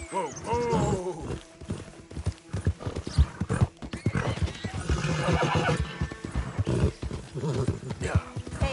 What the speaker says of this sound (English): Hey, mister, that's one nice-looking horse you got there.